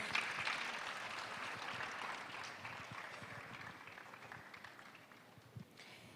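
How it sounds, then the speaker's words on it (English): Sustained applause from an audience at a World AIDS Day celebration, a dense steady clatter of many hands that fades slightly toward the end. "A round of applause."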